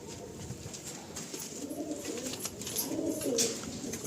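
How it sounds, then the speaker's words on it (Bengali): Andhra pigeons in a breeding loft, soft repeated throaty cooing from several birds close by, with faint rustling and flutters over a low background. "সব আন্ধ্রা পায়রা আছে।"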